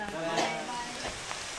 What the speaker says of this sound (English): Well, it's raining on me.